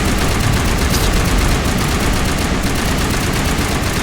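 Dense, continuous gunfire in the Mass Effect video game rattles loud and close, a relentless barrage of rapid shots and blasts layered over a low rumble.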